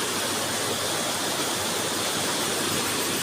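Water rushes over the Huai Khaen rapids in a loud, steady, broadband roar that fills the whole moment without pause, close by, with no voices.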